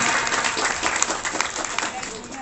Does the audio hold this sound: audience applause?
yes